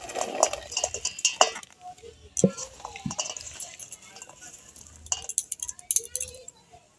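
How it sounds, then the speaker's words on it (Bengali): Carrot, young jackfruit and mango pieces are mixed for a pickle, with irregular clinks and scrapes of a utensil against a metal bowl, close and busy, and a voice speaking over parts of it. "এবার আমরা গাজর এঁচোড় সব আমি আমের সাথে মিশিয়ে নেব"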